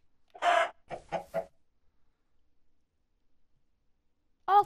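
A Minecraft chicken clucks in a quick series of short calls, then silence, then one more cluck at the end; clear and close.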